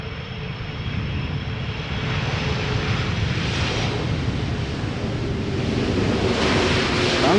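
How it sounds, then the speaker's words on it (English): A Delta Airbus A330 landing at Schiphol Airport, a broad jet engine roar that builds steadily and stays loud as the aircraft passes close, with no talk. "Delta A330s have the potential to get loud, or at least the pilots often do."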